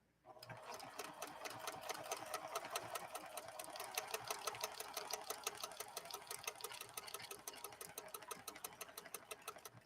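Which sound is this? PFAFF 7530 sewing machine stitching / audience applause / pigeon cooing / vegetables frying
PFAFF 7530 sewing machine stitching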